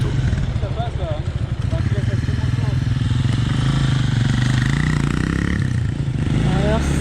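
A motorcycle engine putters and revs near a protest roadblock in Peru, steady and fairly close, with people talking over it.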